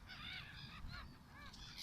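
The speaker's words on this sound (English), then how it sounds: "The birds are also out in full force" Several geese honking outdoors in spring, a rapid series of nasal calls from a few birds overlapping at moderate distance, faint against a steady low background rumble.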